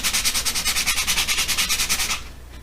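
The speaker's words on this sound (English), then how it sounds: "you can see it scuffing up the oil pan really good now" Rhythmic back-and-forth scuffing of an oil pan being sanded flat for primer and paint, fast regular strokes up close that stop near the end.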